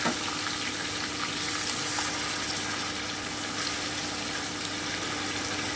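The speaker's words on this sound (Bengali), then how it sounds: "এবারে আমি মেখে রাখা বা ম্যারিনেট করা চিকেনটা দিয়ে দিচ্ছি আমি একটু নেড়ে নিচ্ছি" Marinated chicken frying in a pan for chicken rezala, a steady, dense sizzle that holds an even level throughout, close and fairly loud, with no talking.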